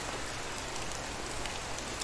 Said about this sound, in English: Still standing out in the rain, are you?